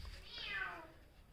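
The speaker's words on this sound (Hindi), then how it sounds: "तो एक बिल्ली आ गई हमारे रूम में" A cat that has wandered into a room gives a single drawn-out meow that slides downward in pitch, close but soft, over a low steady background hum with no talking.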